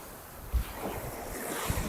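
Ocean waves at Palombaggia beach in Corsica, a soft steady wash of surf mixed with wind rumble on the microphone, with no voices.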